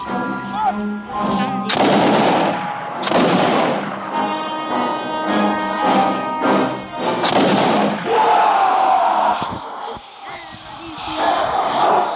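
Bursts of musket gunfire and explosions in the video game Muskets of America, loud and repeated in heavy volleys, with brief quieter gaps and game effects between them.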